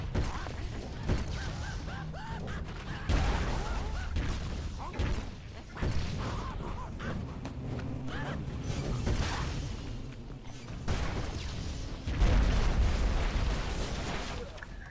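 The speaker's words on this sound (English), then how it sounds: "Ridiculous explosions." Loud Broforce video game battle noise with repeated booming explosions and mechanical clatter, dense and continuous throughout.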